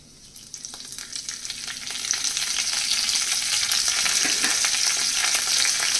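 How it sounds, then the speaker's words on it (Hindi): Cumin seeds and curry leaves sizzle and crackle in hot ghee, a steady frying hiss that swells louder after the first couple of seconds and then holds, with no talking. "घी गर्म हो गया है, इसमें डालेंगे हम 1/2 चम्मच जीरा।"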